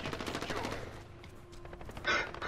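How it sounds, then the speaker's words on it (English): Rapid gunfire bursts from a Modern Warfare multiplayer match, loud and dense with repeated shots throughout, a sharper burst near the end over game noise. "I just died by a shotgun."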